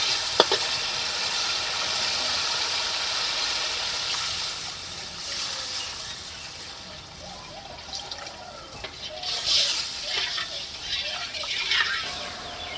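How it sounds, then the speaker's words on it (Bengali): Water is poured into a turmeric spice mixture frying in a pan for dhokar dalna, a lentil cake curry, giving a steady close sizzle with liquid hiss and trickling. The sizzle eases and bubbles later. "মশলাটাকে যে ভালো করে ভেজে নিয়েছি এখন জল দিয়ে দিচ্ছি"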